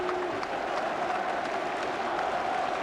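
A football crowd at a Newcastle United versus Brighton match applauds and roars as Brighton celebrate promotion, a dense, steady wash of clapping and cheering from a large stadium audience heard at a distance, with a faint voice under it.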